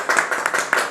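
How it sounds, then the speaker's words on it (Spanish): A few hands clap together in a small cabaret audience, sparse and uneven bursts close by, a handful of claps across a brief moment with no talking. "unos cuantos aplausos."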